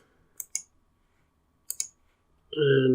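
Computer mouse clicks while saving a Selenium test run setup on a Mac: two pairs of sharp, close double clicks in a quiet room, followed by a voice starting to talk.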